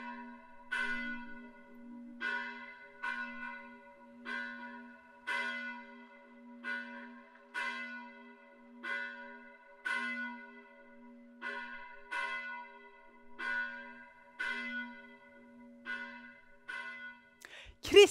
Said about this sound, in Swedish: Nu låter vi klockorna ringa och vi får fira påskdagsgudstjänst tillsammans.